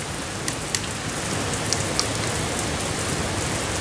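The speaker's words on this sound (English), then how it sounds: "That rain in the background, though, too." Heavy rain pours down steadily in a dense, even hiss close by, with a few sharper drops spattering on a surface and no voices.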